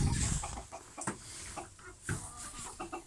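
Several hens cluck and murmur softly in a busy, scattered chatter inside a barn during rain, close by with some rustling in the background.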